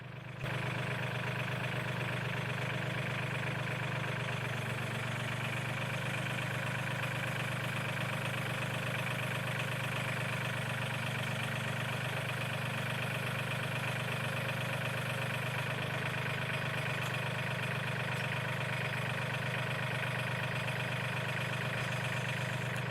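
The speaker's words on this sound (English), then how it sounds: "now let me go ahead and take the tractor, put it in low gear" A tractor engine idles continuously at close range, a low droning rumble that holds even throughout with no voices.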